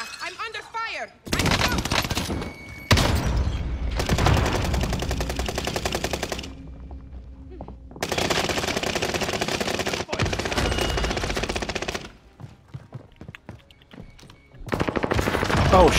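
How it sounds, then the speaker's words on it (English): Bursts of automatic gunfire from the video game Call of Duty: Modern Warfare, loud rapid machine-gun volleys separated by short pauses, with a player's voice mixed in. "I'm under fire."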